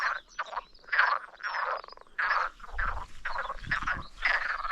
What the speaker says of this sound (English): That's got to be frogs.